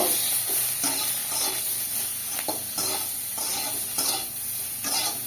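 Steady sizzling of potatoes frying in a pan with salt and turmeric while a utensil stirs and scrapes at intervals, loud and close, with no speech.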